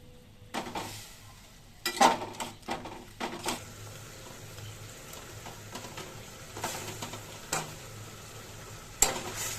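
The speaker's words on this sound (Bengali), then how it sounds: "মাথাটি কষায় রান্না করতে হবে লাউয়ের মতো" A fish head sautés in a pan, crackling in a low sizzle broken by repeated sharp scraping and stirring knocks at an uneven pace, close by, with no talk.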